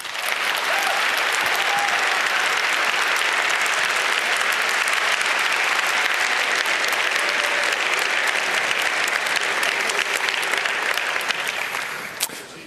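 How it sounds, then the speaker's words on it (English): Sustained loud applause from a large audience greeting a keynote speaker at the 29C3 hacker congress, dense and steady for about twelve seconds before tapering off at the very end. "A loud applause, please"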